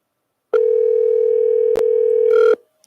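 A single ringback tone sounds loud and steady for about two seconds on an outgoing telephone call, with a brief click partway through, then silence.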